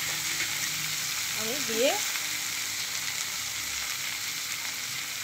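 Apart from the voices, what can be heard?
fish frying and sizzling in a pan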